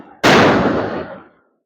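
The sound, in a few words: firecrackers bursting outside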